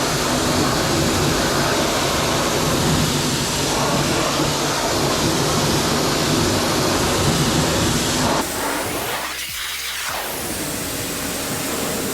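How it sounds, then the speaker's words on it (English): A steady spray of water rinses reactive wheel cleaner off a car wheel, loud and unbroken for about eight seconds before the tone shifts as the spray moves or eases off. "So let's go ahead and rinse it off and see how clean the wheel is afterwards."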